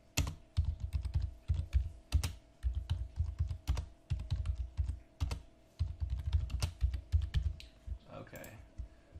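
Computer keyboard keys clack in fast, irregular bursts as a passphrase is typed, close and fairly quiet, with brief pauses between runs of keystrokes and a faint background hum.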